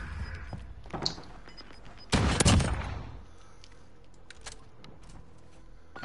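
A short, loud burst of rapid gunfire in the video game Modern Warfare, lasting under a second amid quieter game ambience and a few faint clicks and thumps before and after.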